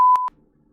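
Censor bleep: a single loud, steady electronic tone about a quarter second long, cut off abruptly and followed by near silence.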